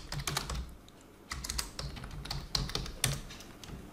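Computer keyboard keys being typed on while entering text in Microsoft Word, coming in quick clustered bursts of close, crisp clicks separated by short pauses, with no voice.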